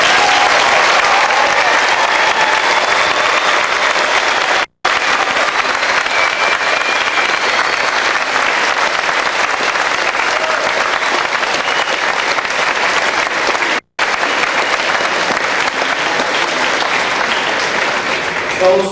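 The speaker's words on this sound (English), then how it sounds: "Join us in giving the Grantsburg High School class of 2001 a round of applause" A large audience at the Grantsburg High School class of 2001 graduation ceremony claps in sustained, loud, dense applause that fills the room, with two brief cuts to silence partway through.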